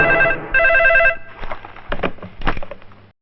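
A telephone rings for a call to the minister, two clear electronic trills followed by clattering movement and brief murmurs.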